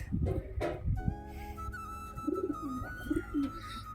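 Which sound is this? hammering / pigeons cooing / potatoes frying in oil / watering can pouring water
pigeons cooing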